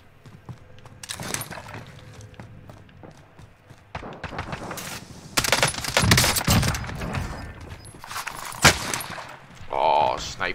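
Sniper fire in Call of Duty on Rebirth Island: scattered loud sharp shots and short bursts over busy in-game noise and footsteps, growing denser midway.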